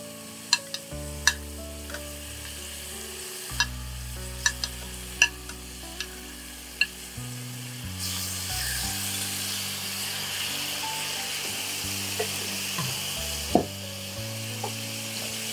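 Chicken frying in oil and ghee with steady sizzling and scattered sharp utensil clicks while being stirred, the loudness holding even throughout.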